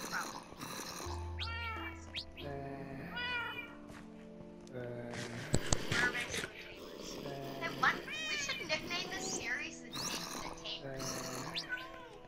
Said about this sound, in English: I just want this flippin' cat to sit down.